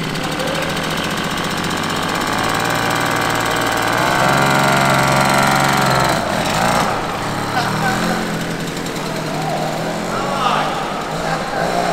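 A small two-stroke moped engine, a Motorynka, runs loudly and continuously nearby, its buzzing pitch rising and falling as the throttle changes.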